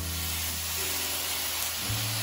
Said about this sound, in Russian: Сначала я буду жарить бекон.